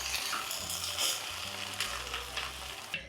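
Chicken sizzles steadily in hot oil with a constant crackling hiss and occasional pops, loud and close, with a low hum underneath.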